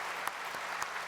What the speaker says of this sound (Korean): 그 모든 수고의 손길에 우리 좀 격려의 박수 한번 보내주시기 바랍니다.